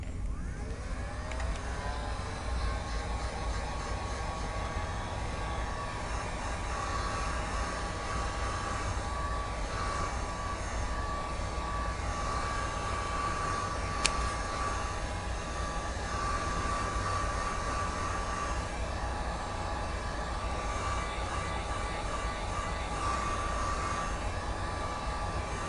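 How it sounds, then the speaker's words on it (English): A heat gun blows steadily while drying paint on a tiered tray, a continuous faint whirring hiss with a thin whine, unbroken throughout with no talk. "When you're using a heat gun to dry your paint, keep it moving"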